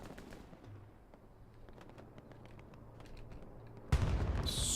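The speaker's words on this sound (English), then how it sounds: "Strafing run coming in the Hospice on the front line." Gunfire rattles in Hell Let Loose during a strafing run over the front line, with scattered distant shots and low rumbles building into a loud, dense burst of fire near the end.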